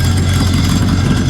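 A ratty 1955 Chevy Nomad engine idling, a steady low rumbling throb heard close and loud for a brief moment, with no voices.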